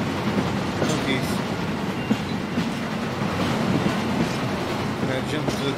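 Train rolling past in Hitman 2, a steady rumbling wash of wheels on rail with faint clatter, continuous and fairly loud, while a voice talks over it.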